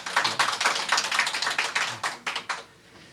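A small church congregation claps to welcome a first-time visitor at a Korean Bible-study gathering, a scattered burst of handclaps at moderate distance that thins out and stops after a few seconds.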